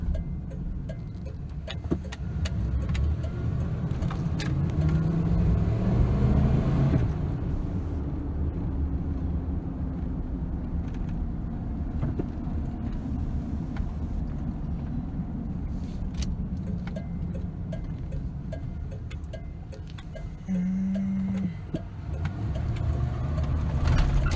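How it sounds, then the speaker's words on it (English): A 1995 Ford F150 pickup truck on the road, its engine a steady loud droning rumble heard from inside the cab, with a brief rise in pitch near the start and another change near the end. "Get out on the road here, do a couple full throttle runs that are decent."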